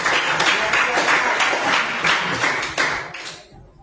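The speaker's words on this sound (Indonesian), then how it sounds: "Tepuk tangan dulu." A classroom of students clapping their hands together in a dense, sustained burst of applause for nearly four seconds, close and loud, before tapering off abruptly at the end.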